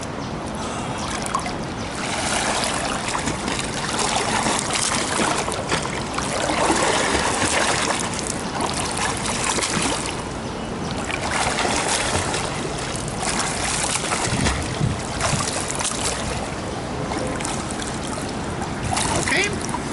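Splashing water from a swimmer doing freestyle arm strokes in a pool, a steady wash of churning and trickling close by, with a voice talking over it.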